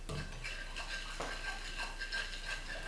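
A spoon stirs yeast, 4 grams of salt, 60 grams of sugar and 20 grams of milk powder together in a bowl, giving steady scraping swirls with light clinks against the sides, close and continuous without any talk.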